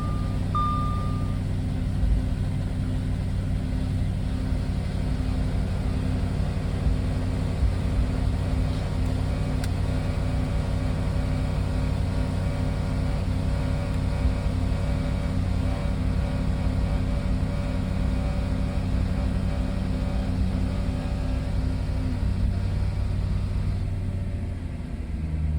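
A 2014 Audi RS5 V8 engine idling steadily after a cold start, a loud continuous rumble with a brief electronic beep near the beginning, running alone without voices.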